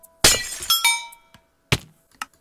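Glass panes shattering in Minecraft: a sharp crash followed by a few more breaking hits and tinkling shards, then another crash and a small clink, loud and close with no talk.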